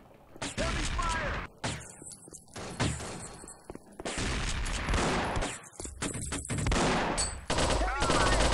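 Heavy gunfire in the Mobile Forces video game, loud rapid automatic bursts and shots that nearly fill the whole stretch, with brief pauses and voices faintly underneath.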